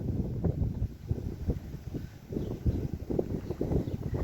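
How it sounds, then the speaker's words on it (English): Gusty breeze buffets a microphone outdoors on a small farm garden bed, a continuous low rumbling roar that swells and dips without pause. "It's a little breezy today"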